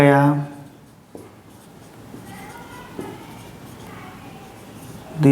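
Answer written by hand with pen on paper during a maths lesson: soft, irregular scratching strokes, with a voice briefly at the start and end.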